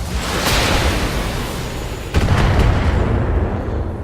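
Two heavy PPC weapon shots from a battle mech in Battletech land as big booming blasts, one early and a second sharp impact halfway through, each trailing off in a long rumbling roar.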